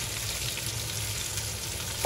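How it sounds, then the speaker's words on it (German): Onions frying in the same pan just used to brown meat for Polish bitki, a steady close sizzle running throughout with a brief louder clatter at the end. "In der gleichen Pfanne braten wir jetzt auch die Zwiebeln."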